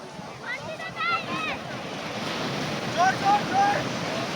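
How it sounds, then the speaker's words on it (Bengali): Sea waves break on the beach at Puri, a continuous roar of surf mixed with wind buffeting the microphone, with distant voices and a few faint tonal calls in the background. "একটার পর একটা ঢেউ আসে পড়ছে"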